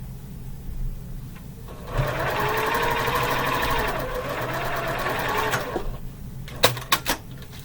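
A sewing machine runs steadily for several seconds while stitching quilt pieces together, a close, even mechanical whir, then stops and is followed by a few sharp clicks and knocks.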